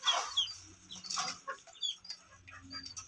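Backyard hens fed on natural, homegrown feed cluck and squawk close by. The bursts are uneven and come one after another over quiet gaps, with no talking.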